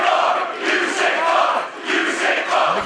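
Wrestling crowd in Las Vegas at a Marty Scurll versus Matt Riddle match, reacting to a finger-breaking move with loud, swelling waves of collective groaning and shouting that rise and fall.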